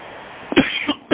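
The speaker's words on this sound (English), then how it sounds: "See, you coughing already." A short burst of coughing, a few harsh, close throaty coughs spaced apart, heard during a sage-smudging session with no words spoken.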